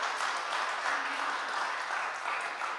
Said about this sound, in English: Can you start by giving just a huge cheer?